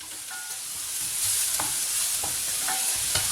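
Onions sauté in a pan with garlic, chili and curry leaves, giving a close, steady sizzle with occasional spoon scrapes and stirring taps throughout, no voices.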